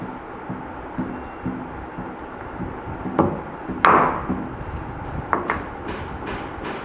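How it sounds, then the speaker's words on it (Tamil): A root being pounded lightly a couple of times in a home kitchen to knock off its white coating, giving scattered dull thuds and one sharper knock against a steady background, with no talk. "நீங்கள் லைட்டாக ஒரு 2 டைம்ஸ் இடித்தாலே போதும், உங்களால் ஈஸியாக அந்த ஒயிட் கலர் இது ரிமூவ் பண்ண முடியும்"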